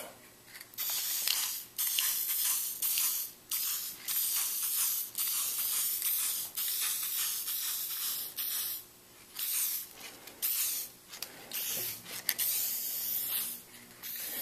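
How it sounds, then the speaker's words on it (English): Spray lacquer hisses onto a Disney Nautilus model in repeated short on-and-off bursts, loud and close, with small mechanical clicks of the can between sprays. "I'm just going to give it some sprays, just random, just hit it"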